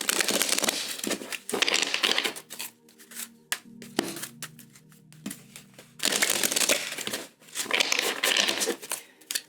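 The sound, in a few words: shuffling a deck of tarot cards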